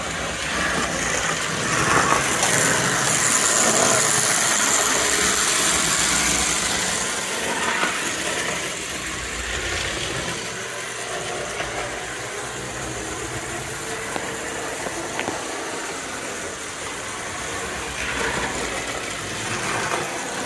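A Lionel postwar #68 Executive Inspection Car toy train motor runs continuously, a steady whirring rumble with rail clatter, slightly louder early on and then settling to an even level, with no talk over it.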